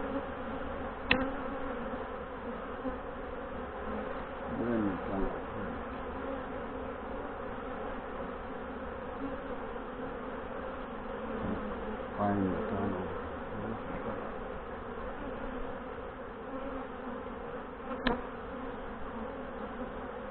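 Honey bees hum steadily across a frame pulled from a queenless hive during an inspection, a dense close drone that swells and fades with a few sharp bumps and taps.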